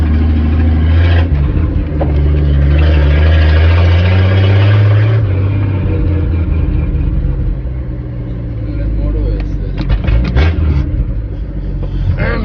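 An old truck engine, started by pull cord, idles with a loud, steady low rumble that swells slightly midway and then settles, heard up close and alone.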